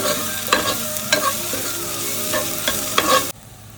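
Ginger garlic paste frying in oil in a pan for chicken curry, stirred with a spoon: steady sizzle with a few scraping stirs, then the sizzle cuts off abruptly near the end.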